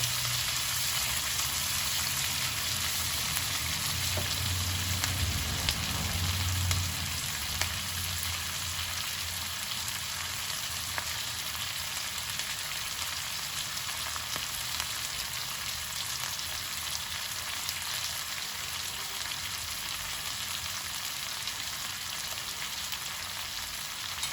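Chillies and onions cut lengthwise crackle and hiss in a hot pan, a constant loud frying sizzle close by with faint occasional stirring sounds and no voices.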